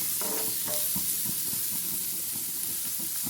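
Chopped onions fry in a pan for Tamil potato bonda, a steady close sizzle and hiss with scraping stirs, no voices.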